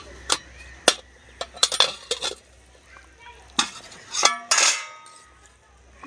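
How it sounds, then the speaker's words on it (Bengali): A lid lifted off a pot of boiling banana flower in a home kitchen, a series of light metallic clinks and taps, close by, ending in a brief scraping clatter. "এবার ঢাকনা খুলে দেখবো মোচাটা সেদ্ধ হয়েছে কিনা"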